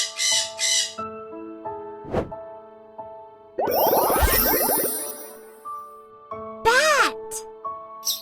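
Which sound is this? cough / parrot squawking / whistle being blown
parrot squawking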